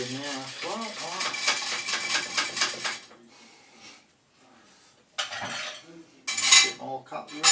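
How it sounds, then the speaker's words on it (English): Metal cutlery and dishes clatter and clink as they are tossed together, a busy run of bright rattles, a brief quiet pause, then more scattered clinks and a loud jangle near the end. "lob some cutlery in with that as well"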